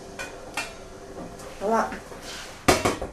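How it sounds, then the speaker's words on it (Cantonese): A metal vacuum cooker pot is set down on a kitchen counter, landing with one sharp, close clunk near the end after a few lighter knocks, while a voice speaks briefly. "咁首先我將真空煲擺咗上嚟啦。"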